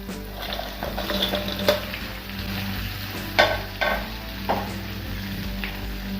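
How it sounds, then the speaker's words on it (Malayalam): Fried chicken is stir-fried with sauce and capsicum for kung pao, giving a moderate, continuous sizzle with spatula scrapes and a few sharper clanks against the pan. "ചിക്കൻ കൂടി ചേർത്ത് സോസും ക്യാപ്സിക്കും എല്ലാം കൂടെ നല്ലപോലെ ഒന്ന് മിക്സ് ചെയ്തെടുക്കാം"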